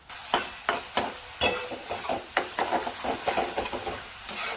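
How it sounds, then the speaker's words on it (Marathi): Spice paste (vatan) is roasted in a pan for a vegetable dish, with repeated quick scraping strokes of a spoon against the pan in an uneven rhythm over a faint sizzle, close and fairly loud. "वाटण कच्चं होतं म्हणून वाटण थोडं भाजून घेऊया"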